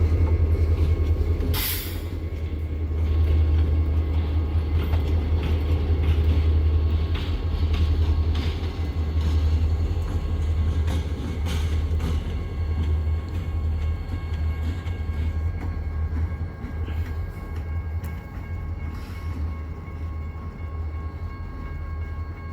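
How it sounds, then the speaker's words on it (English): A CSX freight train hauled by two EMD locomotives rolls past, with a loud, steady low rumble and rattling cars throughout, plus faint squeals and clanks, no talk. "EMD duo powering this train"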